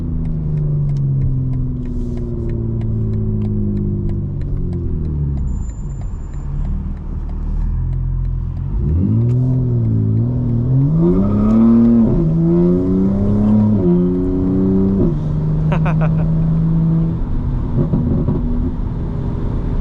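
A 900 hp 2025 BMW M4 Competition xDrive driven hard on a night road, engine droning loud inside the cabin, then revving up through several rising pulls with quick shifts between them.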